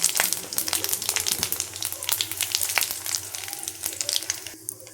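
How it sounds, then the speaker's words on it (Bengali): Bay leaf, dried chili and five-spice seeds crackle as they temper in hot oil in a wok, a dense steady sizzle with sharp pops scattered throughout. "তেল আমার গরম হয়ে গেছে এখন ফোড়ন দেবো তেজপাতা শুকনো লঙ্কা আর পাঁচ ফোড়ন"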